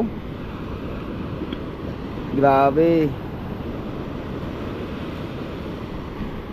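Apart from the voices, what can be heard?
ocean waves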